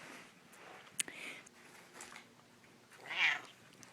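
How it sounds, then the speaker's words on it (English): A faint, quiet cat meow rises near the end after soft rustling and a small click, nothing else prominent. "He has the most wonderful meow."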